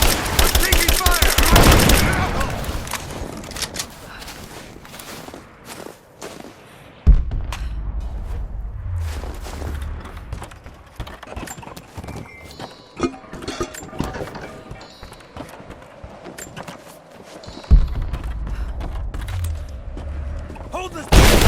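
Heavy gunfire rattles through a firefight in Rise of the Tomb Raider, with dense bursts of shots and booming impacts across the span, loud and close, with brief quieter pauses between volleys.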